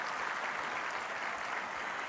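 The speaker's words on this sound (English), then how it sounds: "Let's give them all a round of applause." Applause from a banquet audience at an awards dinner, a soft, distant wash of many hands clapping at an even level throughout, with no voices over it.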